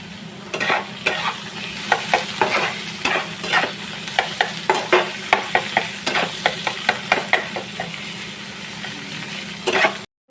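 Vegetable curry of potato, beans and aubrey eggplant being stirred in a pan, a continuous sizzle broken by repeated sharp scraping strokes of a spoon at a steady rhythm, close and fairly loud, no talking.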